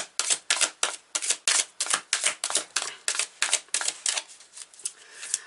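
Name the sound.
tarot cards being handled and drawn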